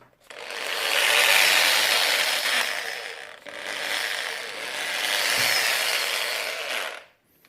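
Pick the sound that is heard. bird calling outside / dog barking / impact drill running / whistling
impact drill running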